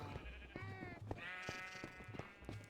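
Minecraft sheep bleat repeatedly in overlapping calls, several wavering bleats from a flock layered one after another, steady and close at a moderate level.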